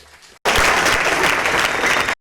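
Loud, dense audience applause at a Kannada tribute concert honouring the actor-singer Dr Rajkumar, starting abruptly and holding steady for about two seconds before cutting off.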